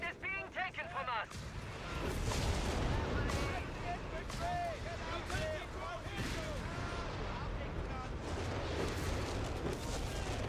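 Stuka dive bomber strike in Company of Heroes 3, a dense rumbling wall of explosions and blasts that stays loud and continuous, with a faint whine and crackling debris through it.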